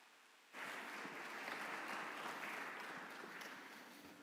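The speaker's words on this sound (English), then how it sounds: "So give a warm applause." A conference audience at re:publica 2017 bursts into warm applause after a brief silence, with the clapping holding steady and then slowly tapering off.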